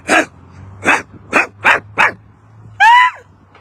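Big dogs barking nearby: five loud, evenly spaced barks, followed by a higher, whining yelp, over a faint low hum.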